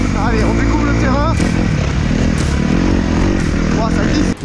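Kawasaki dirt bike with a modified exhaust, the engine running loud and close with a rough, rapidly pulsing drone and varying revs the whole time before cutting off sharply at the end.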